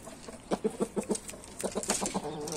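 A black chicken clucking nearby in a quick run of short, rhythmic clucks, then a looser, busier burst of clucking against a steady, low background hiss.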